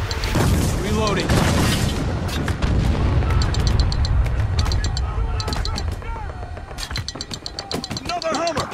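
Heavy weapon fire and booming explosions in the war shooter Spec Ops: The Line, repeated loud blasts and gunfire rolling over one another, with radio-style voices calling out between the impacts.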